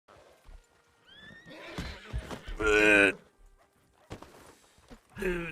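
A horse whinnies with a rising, wavering neigh, loud and close, amid scattered clip-clop hooves, with people talking around it.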